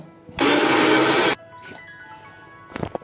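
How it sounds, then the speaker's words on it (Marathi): A mixer grinder grinding masala in one loud, close burst of about a second, then cutting off, followed by faint clatter and a few brief knocks. "मस्त झालंय मिक्सर, मस्त बारीक झालाय बघा हा मसाला"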